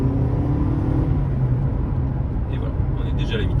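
Steady engine and road hum inside a Toyota Prius plug-in hybrid (PHEV, 223 hp) as it accelerates on a straight road, a continuous loud cabin drone with someone speaking over it.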